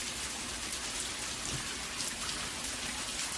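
Steady, dense rain falls and patters on surfaces in a continuous, even hiss, with no pauses or voices, an unbroken wash of drops close by.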